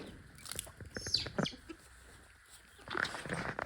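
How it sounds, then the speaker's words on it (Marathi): Rooster crowing at a village home among farm hens, two bursts of crowing over a dim, busy yard background with some clucking, fairly distant rather than close. "कोंबडा कसा ओरडतोय बघा."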